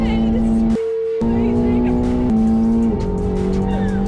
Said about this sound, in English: Sam Bird showed the Game of Thrones actress all the power of the McLaren 750S.